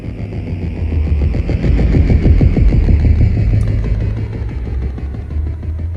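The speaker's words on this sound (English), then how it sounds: "So that's the impulse engines." Designed starship impulse engine effect built from a reverb-treated Jupiter-8 synth sample layered with other elements: a loud, deep throbbing drone with rapid pulsing that swells in the middle and settles back, heard alone.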